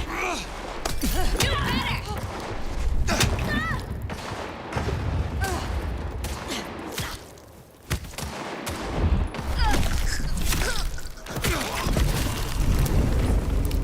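Gunfire rattles through a fight in the video game Vampire The Masquerade Bloodlines 2, with loud, dense bursts and booming shots that go on almost nonstop, and voices talk over the shooting.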